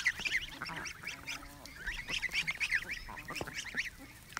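A flock of geese crowds in close, honking repeatedly in rapid, overlapping bursts, loud and insistent throughout without any voices.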